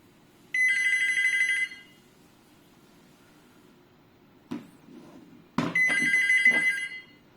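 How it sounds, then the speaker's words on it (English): A hotel telephone's electronic ringer sounds in two bright, trilling bursts about four seconds apart, with a few soft clicks and handling noises in the quiet gap between them. "This is the ringer, high and low."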